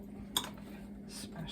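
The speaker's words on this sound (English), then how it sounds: "My trusty fork. Smash this down." A fork mashes food in a kitchen, making a few quiet metallic clinks and soft scraping touches against a dish over a steady low hum.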